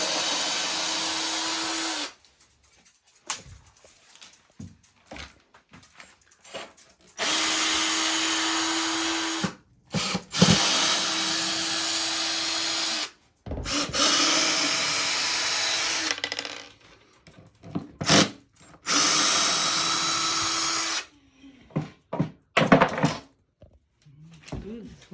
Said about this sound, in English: going to use the screwdriver